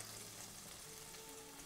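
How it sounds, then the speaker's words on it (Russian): Garlic and thyme frying in melted butter in a pot, a steady, soft, continuous sizzle with fine crackle and no talking. "И на сливочном масле обжарю чеснок с тимьяном."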